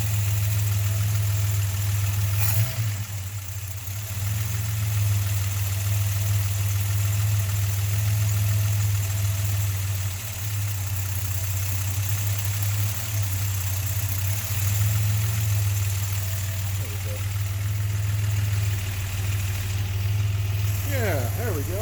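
A Chrysler slant six engine idles steadily at a cold start, its valvetrain ticking lightly over a deep, even rumble that runs loud and close the whole time with no pauses.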